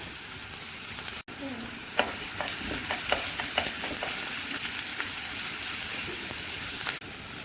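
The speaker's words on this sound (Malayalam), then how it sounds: "എണ്ണ നന്നായി ചൂടായി വരുമ്പം അതിലേക്ക് അരിഞ്ഞു വെച്ചിരിക്കുന്ന സവാളയും കറിവേപ്പിലയും പച്ചമുളകും കൂടി ചേർത്ത് കൊടുത്ത് നന്നായി ഇളക്കാം." Sliced onion, curry leaves and green chili crackle steadily in hot oil, a close, continuous sizzle broken by light scrapes and taps of a spoon stirring the pan.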